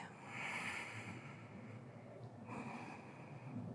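Soft, close breathing during a beginner yoga pose: a slow, airy inhale and exhale, quiet and unaccompanied by talk.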